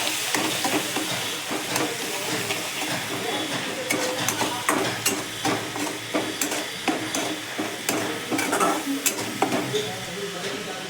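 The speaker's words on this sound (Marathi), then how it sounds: "तेल गरम झालेलं आहे. मिरची टाकलेली आहे. चला मिक्स करूया." Green chilies fry in hot oil while a spoon stirs them, giving a steady close sizzle broken by frequent sharp scrapes and clicks against the pan over about eleven seconds.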